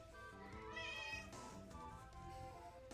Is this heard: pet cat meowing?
yes